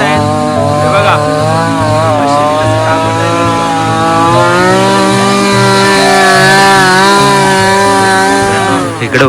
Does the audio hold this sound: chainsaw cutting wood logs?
yes